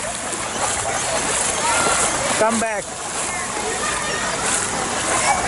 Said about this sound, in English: You are running in the water.